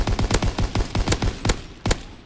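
A Lewis gun fires in Call of Duty WW2, a close, loud burst of evenly spaced heavy shots at a steady rhythm, with a brief gap before one last shot.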